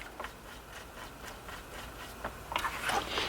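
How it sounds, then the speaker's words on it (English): A magnetized screwdriver drives a screw into a NuTone NM200 intercom master station, making a series of short, rhythmic rubbing turns close up that grow busier and scrapier near the end. "we're going to get one screw on the screwdriver"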